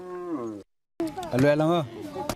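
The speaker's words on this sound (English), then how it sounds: "These cows are Mariel's life and his only way to be valued among his community here in Melek." Cattle in a herd in Sudan low in two drawn-out, tonal moos separated by a short silence, close and fairly loud, with the second call wavering and lengthened.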